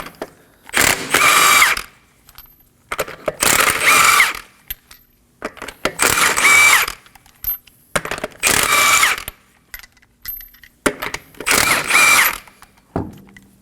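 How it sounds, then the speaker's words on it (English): Wheel nuts on a 2016-2020 Kia Sorento are removed with a 21mm socket: five loud, close bursts of a powered tool, each about a second long, separated by short quiet gaps. "we're going to remove the wheel."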